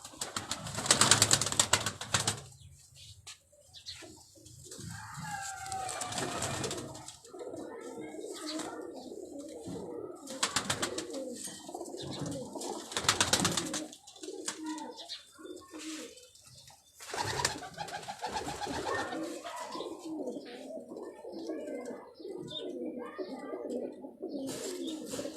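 Pigeons coo close by in soft, throaty bursts, with bursts of wing flapping and some background voices.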